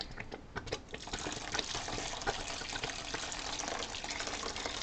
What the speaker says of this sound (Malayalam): ഇനി ഇതിലേക്ക് നമുക്ക് പാനിയാക്കി വെച്ചിരിക്കുന്ന ശർക്കര ഒഴിച്ചു കൊടുക്കാം.